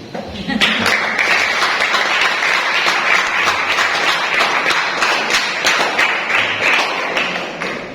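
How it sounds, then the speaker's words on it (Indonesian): A youth worship congregation claps hands together in steady, dense applause that starts sharply and holds loud and close for the whole stretch, with faint voices mixed in. "Tepuk tangan dulu."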